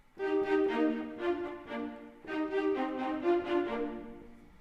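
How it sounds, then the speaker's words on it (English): Violas play short, detached bowed notes in a mid register, in quick rhythmic bursts with a brief pause partway through. "Shorts for violas."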